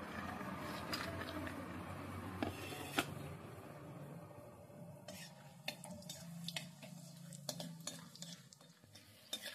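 Peanuts frying in oil in a pan for daliya khichuri with winter vegetables, stirred with a utensil: a quiet steady sizzle under intermittent light scrapes and clicks against the pan.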